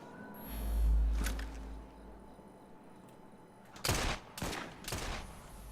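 Gunfire in the video game Assassin's Creed Syndicate, during The Last Maharaja expansion: a muffled boom comes first, then a clustered burst of close, loud shots near the end.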